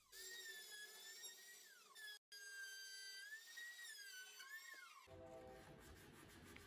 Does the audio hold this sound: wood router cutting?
yes